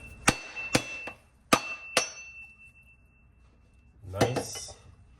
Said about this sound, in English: Now I'm going to break the coconut.